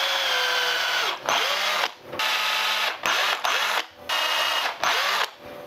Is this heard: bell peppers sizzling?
no